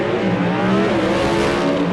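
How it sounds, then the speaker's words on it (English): Stick-shifted Hemi drag race car making a solo run at a Mopar Hemi shootout, its engine roaring loudly and continuously at high revs, close and dominating throughout. "So Camella will have a solo with his stick shifted Island Hemi."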